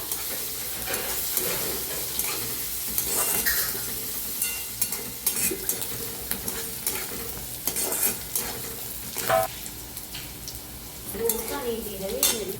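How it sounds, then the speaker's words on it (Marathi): Onions frying and being stirred in a pan for Maharashtrian masala vangi (spiced eggplant), a steady sizzle broken by repeated scraping stirs of a spoon against the pan, close and fairly loud, with no talking. "कांदाचा लाल होत तर छान भाजून घ्यायचा"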